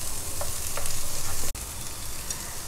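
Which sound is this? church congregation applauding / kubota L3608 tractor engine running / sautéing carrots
sautéing carrots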